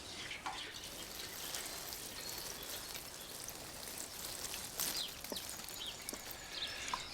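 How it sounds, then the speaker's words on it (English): Water sprinkled over freshly sown herb seeds falls as a faint pattering of drips and splashes, irregular soft droplets against a quiet background with no talking. "Lightly work your hands over it to cover them up, and then water it"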